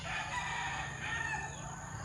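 A rooster crows over steady background noise, the call close and clear with other fowl faintly around.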